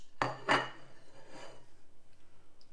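Spoon stirring thick Ready Brek porridge in a bowl, two quick scraping clinks close up followed by a softer scrape, then near quiet.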